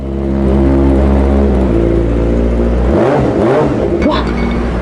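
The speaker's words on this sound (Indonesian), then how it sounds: "suara motor apaan tuh, Wi?" A motorcycle engine revs loudly close by, a rising roar that swells and then dips near the end.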